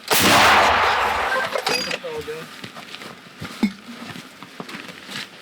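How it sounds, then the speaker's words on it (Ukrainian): A single heavy blast from a British L119 howitzer booms out at the start, then a long rumbling decay fades away, followed by scattered faint clatter. "Постріл!"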